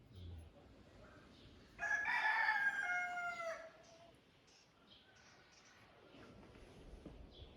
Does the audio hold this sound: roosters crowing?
yes